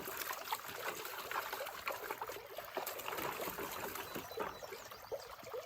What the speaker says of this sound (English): Just dunk it right in my pail